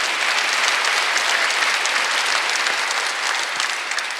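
A church congregation at a Sunday worship service claps hard and fast in a continuous, even roar of hands, loud and close, with no talking over it.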